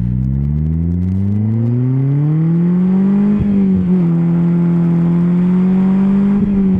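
Engine of a 2016 Polaris Slingshot three-wheeler revving and pulling hard under acceleration, a loud steady drone rising in pitch with brief dips at gear changes, close and continuous with no talking.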